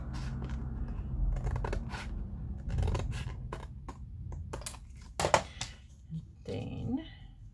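Scissors cutting the edge off a piece of card for a handmade sewing folder, close crisp snips in a loose irregular series with soft paper rustling and handling in between.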